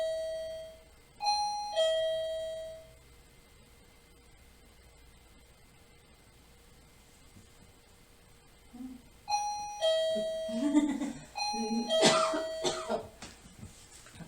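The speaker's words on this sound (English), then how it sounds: "Doorbell's working for you tonight" A doorbell chimes twice at the start, then after a long quiet stretch rings again several more times, mixed with coughs and throat clearing in an old hotel room at night.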